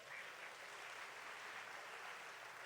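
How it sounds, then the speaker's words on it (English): Audience at the NAACP annual convention closing plenary session gives a steady round of applause, even and continuous clapping from a large hall crowd. "Let's give 360 Solutions a round of applause."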